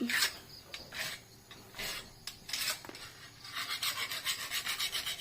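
Rhythmic rasping strokes of a file on a grass-cutter saw blade, close by, with irregular bursts at first, then a steady back-and-forth series of scrapes.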